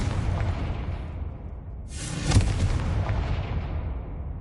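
A Confringo fire spell bursts with a sharp, booming explosion midway through a spell-casting sequence in Hogwarts Legacy, set against a dense background rumble and followed by a decaying hiss.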